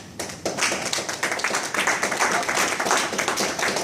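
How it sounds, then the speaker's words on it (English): An audience breaks into dense, loud applause after a short pause, clapping steadily and strongly for several seconds at a Toastmasters educational session. "That applause is not for me."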